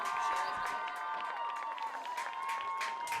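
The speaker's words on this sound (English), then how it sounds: "one last round of applause for our homecoming candidates" Stadium crowd at a high school homecoming football night applauding the homecoming candidates: sustained clapping and scattered cheers from a large crowd, steady and fairly loud throughout.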